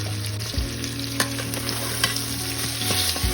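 Onion, ginger, garlic, green chili and a whole tomato fry in hot oil with a steady sizzle, while a spoon clinks and scrapes the pan from time to time under a constant low hum.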